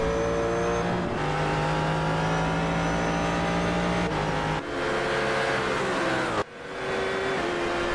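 GT race cars in a sim racing game at Watkins Glen, with loud engine tones climbing through the revs, dropping sharply at gear shifts and rising again, close and continuous with no voices.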